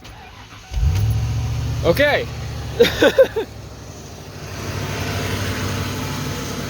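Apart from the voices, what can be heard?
1996 Ford F150 truck engine starting and running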